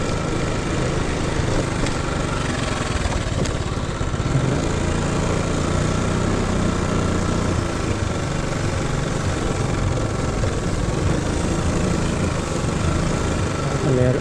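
A motorcycle engine runs steadily with an unusually loud, rough noise that started suddenly, a continuous close droning hum filling the whole stretch without pause.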